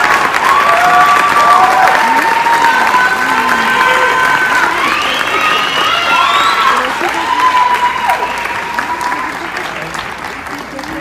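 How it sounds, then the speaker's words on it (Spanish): An audience at a stage presentation applauds loudly and steadily, mixed with cheers and shouting voices, a dense roar that eases slightly toward the end. "Y vuelvo a pedir un aplauso para él."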